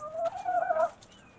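Backyard chickens scratching in compost let out a short clucking call, close and moderately loud, lasting about a second before fading.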